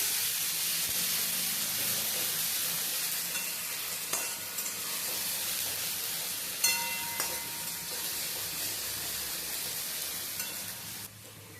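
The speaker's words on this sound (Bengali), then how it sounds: "এবার আমি মশলাটাকে কষাবো।" A spice paste of cumin, ginger, tomato and green chili fries steadily in a pan, a constant close sizzle and hiss with a few scraping stirs and clinks of the spoon.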